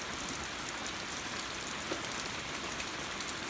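Steady rain falls in a dense, even hiss, pattering continuously on surfaces nearby.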